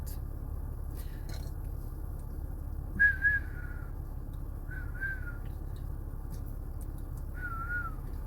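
A person whistles in short bursts, three brief rising-and-falling notes spaced a couple of seconds apart, heard quietly over a low steady background hum.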